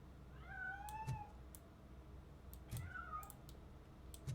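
A cat in the video game RoboCop Rogue City meows twice, plaintive drawn-out cries heard faintly over a low ambient hum, with soft clicks in between.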